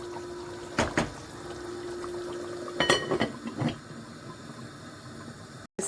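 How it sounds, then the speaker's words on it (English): Nigerian yam porridge (asaro) bubbling in a covered pot, with a soft watery simmer and a few distinct pops and clinks standing out now and then. "That is the porridge. It's cooking, popping up."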